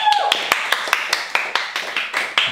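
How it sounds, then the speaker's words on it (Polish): A small studio audience claps to vote for a contestant on a TV show, giving regular, sharp, distinct claps in a steady rhythm. A brief voice is heard at the start. "A więc, brawa dla Agaty."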